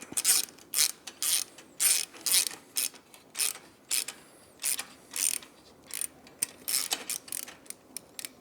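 A ratchet snugs up exhaust bolts while a 2-1 low exhaust is fitted to a Speed Twin 1200, giving close, rhythmic bursts of rapid clicking, about a dozen short runs separated by brief pauses.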